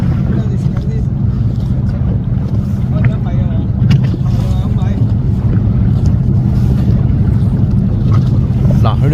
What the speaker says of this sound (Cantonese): 啱啱有隻大船經過，佢哋就係要硬食嗰啲浪啊。